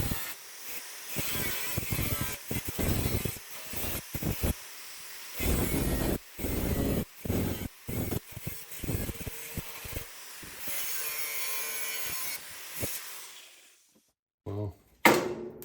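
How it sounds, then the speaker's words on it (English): Screw heads are ground down to their washers on the bonnet frame of a 1966 Triumph GT6. The grinding comes as loud, close, harsh bursts of a second or two, separated by short pauses, before it trails off. "I can grind the head of the screw all the way to the washer"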